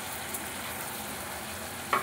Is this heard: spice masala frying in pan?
yes